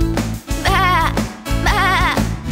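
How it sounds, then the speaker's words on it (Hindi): Two loud, wavering sheep bleats sound in quick succession in a children's song, with a musical backing underneath. "भेड़ करे वाह"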